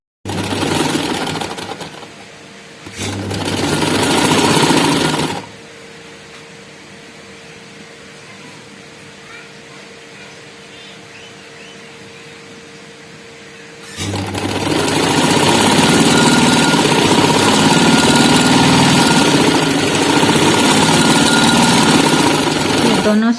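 An electric sewing machine stitches the side seams of a frock in two long runs, a loud, steady mechanical drone that stops for several quiet seconds of hum before starting again and continuing.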